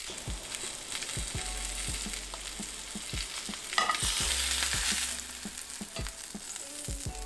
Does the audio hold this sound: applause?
no